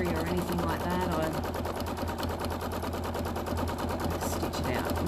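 A sewing machine doing free-motion quilting runs in a fast, steady stitching chatter with no break, close by, while a voice seems to talk faintly over it.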